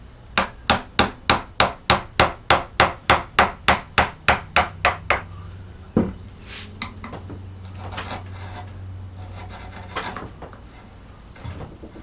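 Mallet striking a carving tool to bevel an S-scroll in wood, about fifteen sharp evenly spaced knocks in a quick steady rhythm, followed by softer scraping and a few scattered taps, close and clear with no talk.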